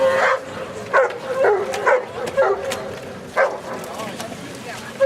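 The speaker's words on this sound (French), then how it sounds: "on continue avec Aminus, une chienne noire de 18 mois aussi" Black 18-month-old female rescue dog in training barking in short repeated yips and woofs at moderate distance, with a person talking steadily over the barks.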